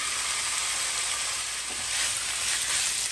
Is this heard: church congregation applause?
no